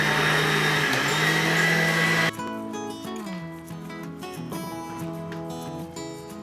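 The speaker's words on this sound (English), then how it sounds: "So now we'll continue just grinding." An electric grinder whirs loudly, grinding spices for Goan prawns, then the motor drops to a lower, steadier hum as the grinding continues with rattling bits inside.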